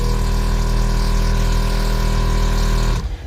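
An Air Lift air suspension compressor on a vehicle runs as a steady, loud mechanical hum with a constant pitch, then cuts off abruptly near the end.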